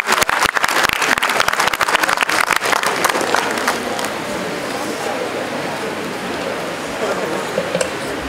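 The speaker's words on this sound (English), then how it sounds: "Please a huge round of applause for the students." A hall audience at a mediation centre inauguration honours students with dense, loud applause. It begins with sharp, distinct claps, then settles into a steady wash, and a voice is heard partway through.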